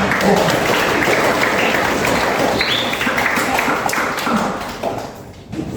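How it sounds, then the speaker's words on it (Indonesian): A classroom of students applauding together, dense continuous clapping that fills the space for several seconds and tapers slightly near the end. "Sebelumnya berikan tepuk tangan buat kalian."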